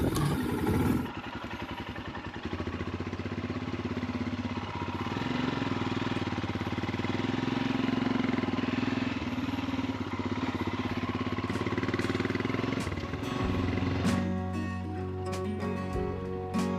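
A Royal Enfield Himalayan motorcycle rides along a coastal route near Oban, Scotland, its engine a steady, loud, close drone with wind rush and faint shifts in pitch throughout.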